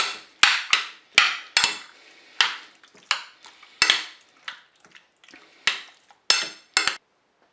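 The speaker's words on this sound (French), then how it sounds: "Je vais mélanger." Spoon clanking against a Cookeo pot while tomato puree and mustard are stirred into vegetables for a courgette and aubergine gratin: a dozen sharp, irregular metallic knocks and scrapes, close and fairly loud, with no talking.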